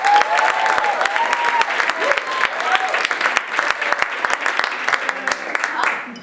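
An audience breaks into a round of applause, steady clapping that holds for several seconds and tapers off near the end, with a few voices and cheers over it.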